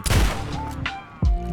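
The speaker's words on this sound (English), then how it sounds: "He's tanking fucking shots from the most powerful shotgun in all the whole game." Two heavy blasts from the most powerful shotgun in Fallout 3, booming and close, one at the start and another about a second later, with game tones ringing between.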